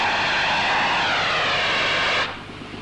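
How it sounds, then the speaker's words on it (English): Dry powder fire extinguisher blasting onto a petrol fire leaking down corrugated iron in a workshop, a loud continuous hissing rush for about two seconds that then cuts off to a quieter residue. "That was a dry powder extinguisher."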